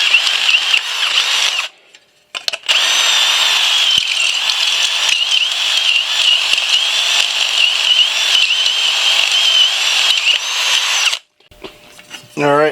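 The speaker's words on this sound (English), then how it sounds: "I got to drill these holes out a little bit bigger" A power drill bores out and enlarges fastener holes in a Harley-Davidson chain guard during a Top Fuel restoration, a steady high whine running nearly continuously with two brief pauses and a final stop.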